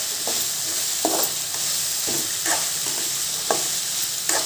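Peanuts dry-roasting in a pan for peanut chutney, stirred with a spatula that scrapes out a steady, loose rhythm of bursts over a constant low hiss, close up and with no talking.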